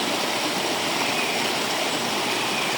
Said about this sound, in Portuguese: Aqui a água entra nesse cano aqui